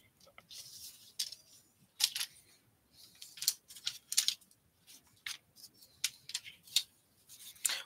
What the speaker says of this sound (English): We're going to go ahead and cut our paper at